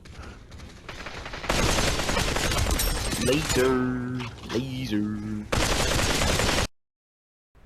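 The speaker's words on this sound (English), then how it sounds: "what you just heard is the sound of my AK firing before I even came around the corner" An AK rifle fires in bursts in the VR shooter Population: One, loud and close, mixed with game sounds and a voice talking over it before the sound cuts to silence.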